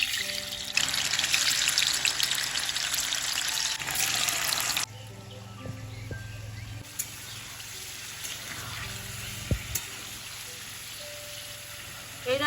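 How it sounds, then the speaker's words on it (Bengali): Paneer pieces dropped into hot white oil sizzle in a loud, dense hiss for about four seconds, then settle into a quieter, steady frying crackle with occasional clicks. "এই রান্নার জন্য আমরা একদম হালকা পনির ভাজবো, কড়া পনির ভাজা যাবে না।"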